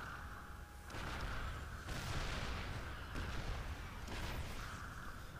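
Siege tanks trading heavy cannon fire in a StarCraft II match: several booming blasts land about a second apart over a steady din of battle noise.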